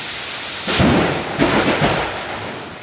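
Two heavy thunder booms roll through in quick succession over a constant hiss of pouring rain falling on a garage.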